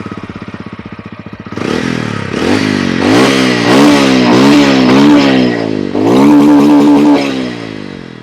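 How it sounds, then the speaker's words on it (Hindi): A TVS Ronin 225 motorcycle's exhaust idles with a soft, rapid putter close by, then blips through a series of sharp throttle revs that rise and fall. A final longer rev swells loudly before settling. "चलिए एग्जॉस्ट नोट भी करा देते हैं किसका कैसा एग्जॉस्ट साउंड आता है यहाँ पर।"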